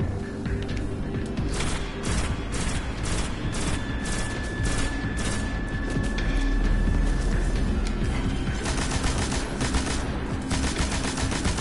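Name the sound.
gunfire with recoil in the video game Destiny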